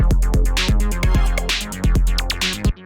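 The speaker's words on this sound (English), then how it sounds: "more old school sort of analog sounding hi-hats" Analog-style hi-hats tick out straight 16th notes inside a gritty electro beat, crisp and steady over a punchy kick and bassline, looping for a few seconds.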